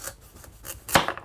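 A slightly larger kitchen knife slicing the bottom off a vegetable while cooking a tagine, a few light scraping strokes followed by one firm cut against the board, close and alone.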